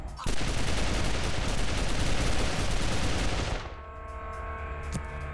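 Heavy gunfire roars in a Wasteland 2 combat encounter near the Griffith Park radio tower, a dense continuous volley that cuts off abruptly and leaves a ringing, quieter tail.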